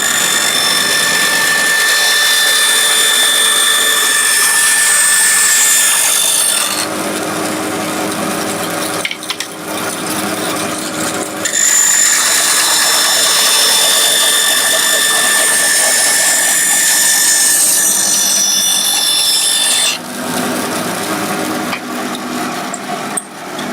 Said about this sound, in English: I'll cut this bit out, I'll turn it over, and then I'll cut that bit out. So bandsaw.